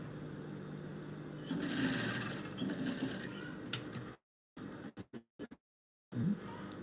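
A sewing machine stitches a straight seam in a steady whirring run of mechanical clatter, broken by a few short bursts and pauses near the end before it starts again.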